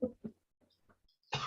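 Two quick, close coughs, then a short pause with faint breaths before another harsh cough bursts out.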